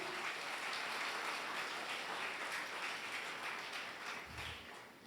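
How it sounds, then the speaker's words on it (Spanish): Applause from a church congregation, a dense, fairly distant wash of clapping that holds steady for several seconds, faint overall and tapering slightly toward the end. "¿Cuánto le damos un aplauso a la deidad divina?"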